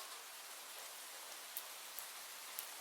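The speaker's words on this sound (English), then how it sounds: "let's get you out of the rain, okay?" Steady rain hisses evenly, with a few sharp drips ticking through the soft wash of noise.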